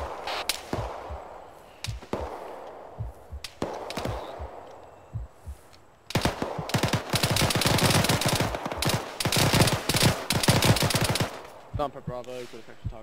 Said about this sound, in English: Looks like we're taking shots northeast.